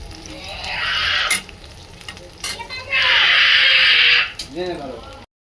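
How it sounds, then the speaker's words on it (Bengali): Chow mein fries in a pan, rising in two loud sustained sizzling bursts with scraping stirs between them, close up, while a voice talks nearby. "এবার চাউমিন ভাজা হচ্ছে"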